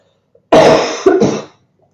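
A loud, close throat clearing followed by a short second cough-like burst, with no talking.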